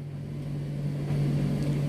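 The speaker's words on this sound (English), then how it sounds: "Please excuse the noise of the tumble dryer" A domestic tumble dryer runs with a steady low hum and a constant rumbling whir that hold at an even level throughout, with no talking.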